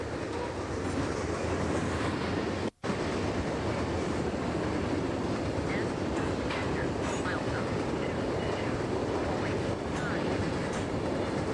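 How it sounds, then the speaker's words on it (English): Southern Pacific grain freight train pulled by a leased EMD locomotive passing close by, a loud continuous roar and rumble of rolling cars and engine with no letup, briefly cut once near the start. "The northbound Southern Pacific local from Jonesboro, behind a leased unit from EMD with a trainload of grain picked up at local elevators."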